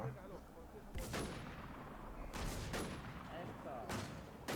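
Gunfire in the online shooter WarZ: several sharp, loud shots ring out at intervals, each with a short decaying tail, over faint background game ambience.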